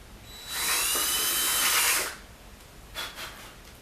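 A power tool cuts recesses into wood for a wall-mounted antler display shelf, with one steady high whine lasting about a second and a half, followed by quiet and a brief faint tick.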